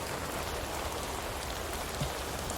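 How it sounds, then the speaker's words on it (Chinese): Heavy rain pours down steadily in a dense, unbroken hiss with no voices, keeping an even loudness throughout. "如此大雨"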